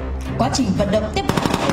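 AK submachine gun fire at a police academy training exercise, bursts of rapid shots cracking out over a busy outdoor background with voices mixed in.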